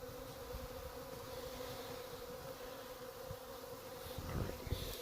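A dense swarm of honey bees being knocked from a chimney into a box, a steady close buzzing hum throughout with a few louder thumps and rustles near the end.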